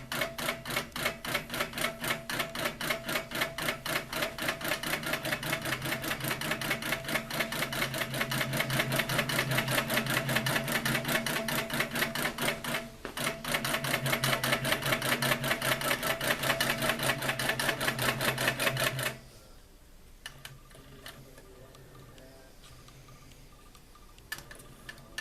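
A Babylock quilting machine on a Momentum frame bastes a quilt with a rapid, steady mechanical stitching chatter that runs continuously and then stops, leaving faint ticks and quiet room sound.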